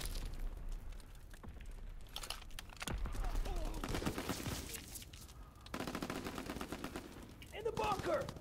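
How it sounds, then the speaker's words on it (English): Scattered gunfire and machine-gun bursts in the World War II shooter Call of Duty: WWII, fairly faint and continuous with occasional louder stretches, mixed with voices talking over the game. "Someone shot me."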